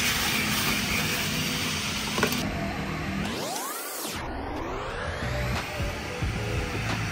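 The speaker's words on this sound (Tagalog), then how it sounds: "And then magpa-vacuum na tayo ngayon." A powerful coin-operated car wash vacuum roars steadily nearby, its airflow surging into a sweeping whoosh midway before settling back to a constant drone.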